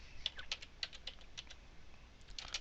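Quick, light keystrokes on a computer keyboard as a command is entered, a soft irregular burst of clicks heard close and alone in a quiet room.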